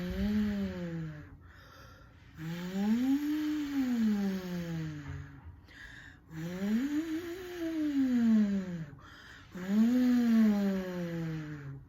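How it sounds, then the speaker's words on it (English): Voice exercise sung with the cheeks filled with air, producing a buzzy, muffled hum that slides up and down in pitch in three or four long sweeping phrases. "You want to fill your cheeks with air and produce sound at the same time."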